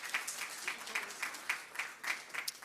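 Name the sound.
audience applause for award winners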